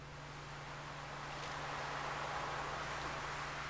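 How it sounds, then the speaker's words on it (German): Ocean waves in the video game Stardew Valley, a steady, soft, washing surf noise that swells slightly and continues without a break, with no voices. "Ach ja, das schöne Meeresrauschen"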